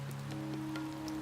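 Steady rain falls on a surface with soft scattered drops, a faint continuous patter over a low steady hum, with no voices.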